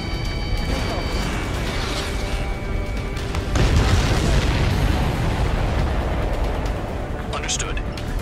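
Missile explosions from the combat flight game Ace Combat 7 during a pipeline-destruction mission, with a loud broadband boom surging near the middle among jet and combat noise, under ongoing in-game radio chatter.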